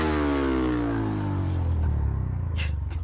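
A motorcycle exhaust fitted with a silencer revs close by in a public place, its engine note dropping steadily from a high rev to a lower, pulsing idle.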